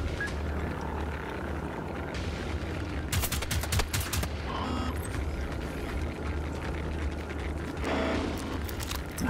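Gunfire crackles through the game Generation Zero, bursts of rapid shots mixed with a low droning engine rumble and other battle noise, moderately close and continuous.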